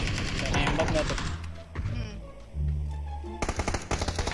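Automatic gunfire in the battle-royale game PUBG, with rapid bursts of shots at the start and again near the end and a quieter stretch of game sounds in between, loud and close.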